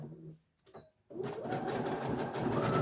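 A sewing machine stitching a tote bag, starting after a short pause with a faint earlier whir, then running steadily and close for the remainder, reversing at the end of the seam.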